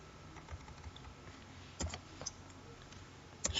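Sparse, quiet keystrokes on a computer keyboard as an SQL query is typed, a few isolated clicks spread over a faint background hum rather than a steady run.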